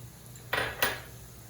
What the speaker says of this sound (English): it's hot now, so I'm adding the onions, sliced onions